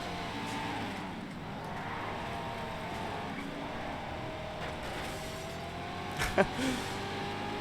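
Aston Martin race car in the Race Driver GRID video game, a steady engine drone with shifting revs as it laps the circuit, closing on a short burst of scraping contact while a voice talks over it.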